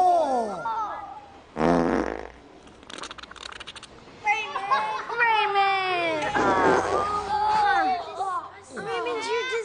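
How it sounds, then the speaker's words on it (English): One loud, brief fart rips out early on, surrounded by lively voices and chatter that carry on around it. "I farted as if you never fart."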